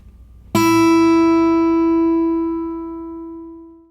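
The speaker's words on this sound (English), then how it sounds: "we'll only need the thinnest string on our guitars, so go ahead and locate it and pluck it with your thumb" A single high guitar string is plucked once, ringing clear and bright before slowly fading out.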